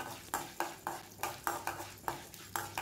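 Urad dal and chana dal roast in oil in a pan while a spatula stirs, giving about ten sharp metallic clinks in a fairly steady rhythm over a soft frying hiss, with no talking.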